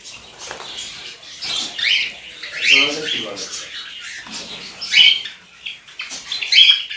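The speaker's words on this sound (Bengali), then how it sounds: "আর এখানেও আছে সাদা পাখি, সাদা জাভা। আর এখানে আছে মানে সিলভার জাভা।" White and silver Java sparrows in a cage, giving several short squawks and chirps in separate bursts at close range, with someone talking between them.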